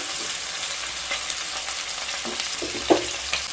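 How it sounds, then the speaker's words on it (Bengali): Potato and carrot pieces fry lightly in hot white oil in a pan, making a constant close sizzle. Spatula clicks and scrapes sound throughout, and a sharper knock comes near the end. "আলু আর গাজর হালকা ভেজে নেব"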